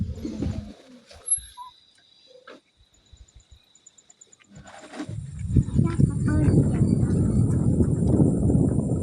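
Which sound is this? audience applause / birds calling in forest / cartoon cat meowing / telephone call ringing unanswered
birds calling in forest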